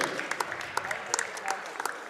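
Crowd cheering and clapping in a school gym before a girls varsity basketball game, a dense crackle of applause with scattered sharp claps and a voice speaking over it.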